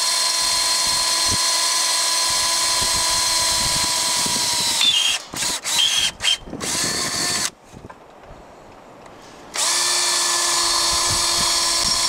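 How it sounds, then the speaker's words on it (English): A power drill bores into concrete during an outdoor repeater antenna install, a loud steady whine that stutters and breaks off mid-way, pauses briefly, then resumes at full strength. "At least you got sharp drill bits. Mine would probably walk all over the place."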